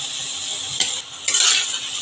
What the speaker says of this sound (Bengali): এখন আমি ফুলকপিগুলো দিয়ে দিচ্ছি